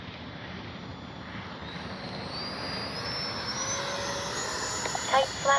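An E-flite 64mm Viper RC jet flying a low pass with landing flaps down, a steady ducted-fan whine and rushing roar that builds and rises in pitch as it approaches, fairly loud outdoors.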